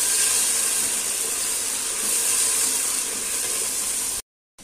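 One kilo of mutton sizzling in a pot while cooking for haleem, a steady loud hiss of frying that runs unbroken before cutting off abruptly near the end.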